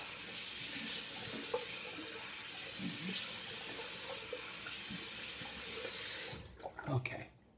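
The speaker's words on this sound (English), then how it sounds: "I'm going to go ahead and rinse off." Steady, loud stream of tap water pouring into a sink as a face is rinsed after a wet shave, running continuously for about six seconds and then cutting off, leaving a few small drips and handling noises.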